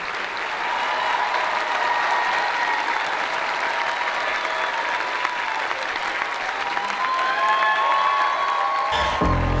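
A large audience applauds steadily and loudly at a carnival-style stage show, sustained dense clapping with a few faint cheers, and no voices speaking over it.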